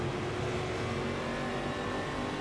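A Stock Car with a sequential gearbox roars steadily in a racing game, the engine holding a dense, constant drone at high revs throughout with no breaks or voices.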